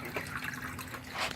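An object drops into water in a flooded survival video game, giving soft drippy splashes and trickling water sounds, fairly quiet and close, with no talking.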